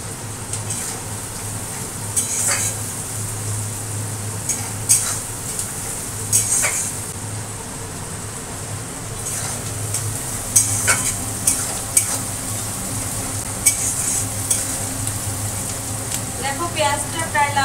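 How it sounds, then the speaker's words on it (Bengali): Onions fry and sizzle steadily in a pan while a spoon stirs and scrapes, with sharp clinks against the metal at intervals and a constant low hum beneath. "দেখো পেঁয়াজটা প্রায় লাল লাল করে ভাজা হয়ে গেছে"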